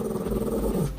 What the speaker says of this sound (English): Bandit keeps staring up and growling at something it perceives as a threat in an otherwise quiet, normal-looking room.